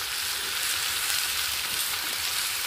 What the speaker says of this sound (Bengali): দিয়ে এটা ভেজে নেব।